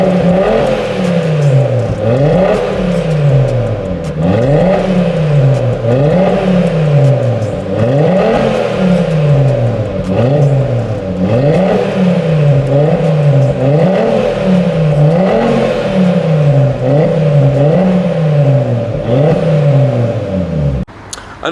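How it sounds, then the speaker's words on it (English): Audi RS3 Stage 2, tuned, with a non-resonated Milltek catback exhaust, revving over and over in a steady rhythm, rising and falling loud and close throughout with no talking. "And the exhaust sounds absolutely epic."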